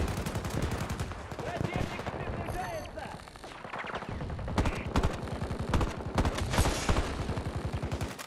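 Assault rifle fire in the video game Battlefield 2042 crackles in rapid, loud bursts of automatic shots with brief pauses between, mixed with in-game chatter and effects.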